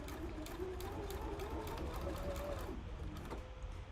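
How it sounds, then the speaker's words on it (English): A sewing machine stitching fabric with the presser foot down, a steady close whir with rapid rhythmic needle clatter throughout, and a faint voice under it. "Drop the presser foot. I'm just gonna stitch."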